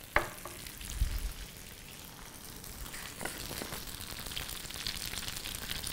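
Butter melting and frying with spaghetti in a pan, a steady soft sizzle with faint crackles and a few light clatters of stirring, heard alone without talk.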